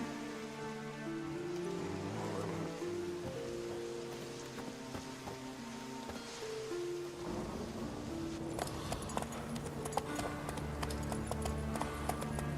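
Horse hooves clip-clop steadily in The Witcher 3, a continuous patter of steps under game music and a rain-like hiss.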